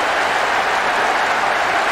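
A stadium crowd boos in the soccer video game World Soccer Winning Eleven 2012 after an away goal. It is a dense, loud, continuous roar of jeering fans that fills the whole stretch without any break.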